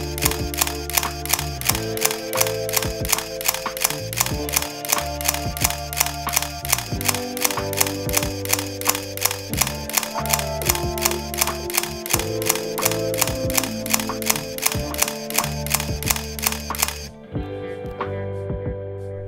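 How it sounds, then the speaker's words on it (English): A Canon EOS 620 film camera fires its shutter in continuous shooting mode, giving a rapid, even series of mechanical clicks with motor whir. The near, loud rattle runs for about seventeen seconds, then stops abruptly. "Here's a quick look at how the shutter works in continuous shooting mode."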